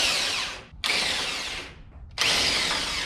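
Power drill driving the four mounting bolts for a Chevy Blazer headlight, loud and close: three long whirring bursts with brief gaps between them, the motor pitch sagging as each bolt tightens.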